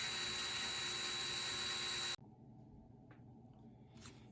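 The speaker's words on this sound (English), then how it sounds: "now I'm going to take the top of the rivet head off" A drill cutting the top off a rivet head on a Matchbox King Size Merryweather fire engine model: a loud, steady high whine for about two seconds stops abruptly, leaving faint background noise and a few small clicks.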